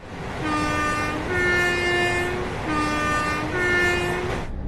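A loud Class 802 train horn in Train Sim World 6 sounds in repeated two-tone blasts, its pitch alternating between low and high notes, with no talking over it.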